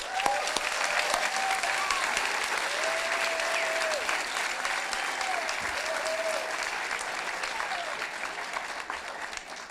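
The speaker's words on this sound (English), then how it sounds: "let's take a minute and give all the wonderful parents a round of applause" Sustained, steady applause from a large audience at a nurse pinning ceremony, honoring the graduates' parents, with the hall's dense clapping holding evenly for several seconds and a few voices calling out faintly underneath.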